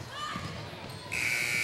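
Game-ending buzzer at a girls' high school basketball game, Bishop McDevitt vs East Pennsboro, blares loud and sustained after about a second of crowd noise and commentary, continuing steadily to the end.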